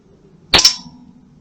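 A single sharp pellet shot from an air gun at a target, a close crack with a brief metallic ring of impact trailing off, standing alone against a quiet background.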